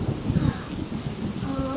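Rain falls steadily, with a few low thunder rumbles and faint tonal sounds in the background.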